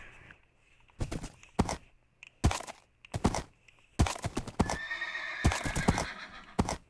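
A horse in the Minecraft video game gives several loud whinnies with hoof clip-clops between them, the bursts coming in close succession.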